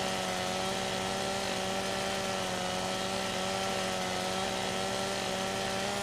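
A chainsaw engine drones steadily and loudly throughout, a constant buzzing roar with a few overlapping tones and no talking, as it cuts a tree in the video game Farming Simulator 17.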